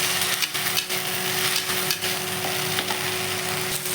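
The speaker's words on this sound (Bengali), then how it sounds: "এবার এই বাটা মশলাটা পেস্ট করে মশলাটা দিয়ে এবার ভালো করে কষিয়ে নেব" Ground spice paste is stir-fried with potatoes in a pan for a prawn curry. A close, steady sizzle runs throughout, broken by repeated scrapes and knocks from the spatula.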